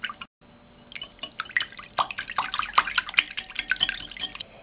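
Eggs and about 50 ml of water splash and clink rapidly in a deep bowl as they are whisked, a quick irregular wet rhythm growing busier.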